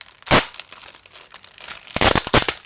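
Crinkly paper packaging is torn open in a few sharp crackling bursts, one near the start and a louder cluster toward the end, with quieter rustling between and no voices.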